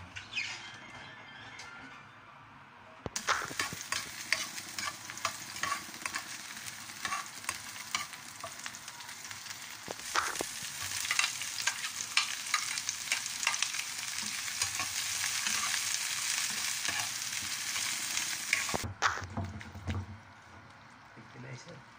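Ground meat sautéing in a pan for Filipino ginisang giniling, a steady broadband sizzle with stirring scrapes that starts abruptly and runs loud and close, with voices talking under it.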